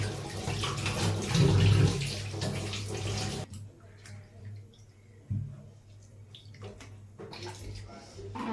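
Tap water runs and splashes loudly as food is washed for cooking in a home kitchen, then cuts off, leaving quieter drips and brief splashes as the washing continues.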